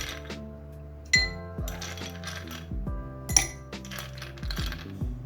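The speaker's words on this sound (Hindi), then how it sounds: "इसमें मैं क्यूब्स डालूंगी।" Ice cubes dropped into a glass of raw mango drink (kari ka sharbat), giving a few sharp clinks and knocks against the glass, close and clear, with no talking.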